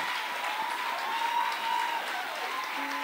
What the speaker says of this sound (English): Let us clap hands for her.